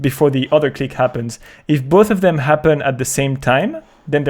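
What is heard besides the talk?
No everyday noise stands out behind the speech.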